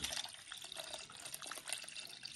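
Water is poured into a glass of Rooh Afza rose syrup drink, giving a steady, faint splashing and filling sound with no talk over it.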